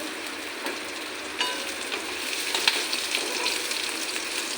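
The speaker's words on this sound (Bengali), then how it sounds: "গ্যাসটা একদম কমিয়ে আমি মুড়ি ভাজাটা করব" Puffed rice fries in a pan over a low gas flame, giving a continuous close hiss dotted with light crackles and faint stirring clicks.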